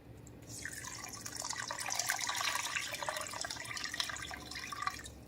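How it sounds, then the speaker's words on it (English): Three cups of water poured into a jambalaya pot, a steady splashing, bubbling pour lasting about five seconds at close range, with no talk. "And I'm going to add 3 cups of water."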